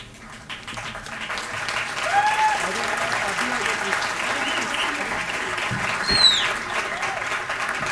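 Audience applause fills an awards ceremony hall, a steady wash of many hands clapping at moderate loudness from start to finish, swelling slightly midway with a few brighter claps standing out.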